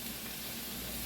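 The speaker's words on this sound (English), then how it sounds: "Nice sizzle." Eggs fry in bacon grease in a hot pan, giving a steady close crackling sizzle that runs unbroken through a brief moment with no talk.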